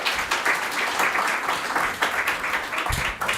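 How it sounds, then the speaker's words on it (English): A conference audience applauds its speakers, a steady patter of many hands clapping throughout, moderately loud and continuous. "round of applause for our speakers"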